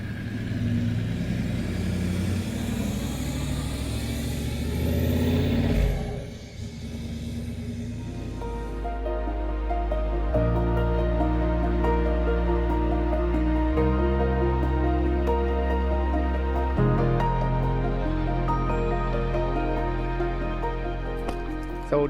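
A 4WD pulls out of a remote camp in the Simpson Desert, its engine droning steadily and close for the whole stretch, with a changing gear note and rumble partway through and no voices.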